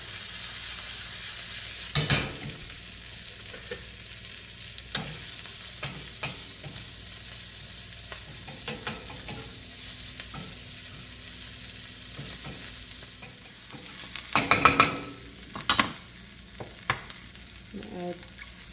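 Foraged vegetables with wild field garlic, salt and pepper frying in a pan for breakfast: a continuous quiet sizzle broken by bursts of stirring and scraping, with louder clatter near the end.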